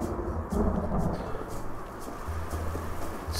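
Thunderstorm in the video game Night Maniac: a low rumble of thunder rolling under steady rain, fairly loud and continuous with no voices.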